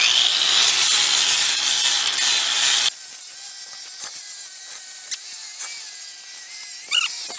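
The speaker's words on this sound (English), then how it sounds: "I'm just using my angle grinder with a flat disc." Angle grinder with a flat disc grinding rust off a wheel rim in a garage, a loud harsh scraping whine for the first few seconds, then dropping to a quieter steady hum with scattered scrapes.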